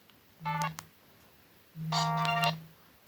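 A Nokia 216 mobile phone plays a ringtone in two short bursts, a brief tonal phrase and then a longer sustained one, clear and close in a quiet room.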